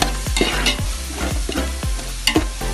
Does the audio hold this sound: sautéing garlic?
yes